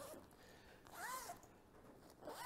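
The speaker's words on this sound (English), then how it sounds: "So let's see, where's our zipper here?" A zipper on a full-size J-Life futon mattress cover being pulled open indoors, a couple of quick, close rasping strokes at low level.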